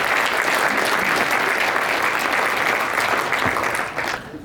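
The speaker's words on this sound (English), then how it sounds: "So to all of our sponsors, I'd like to give you a big round of applause" Loud, dense round of applause from the audience at a Rotary youth fundraiser night honoring the sponsors, sustained evenly before tapering off at the end.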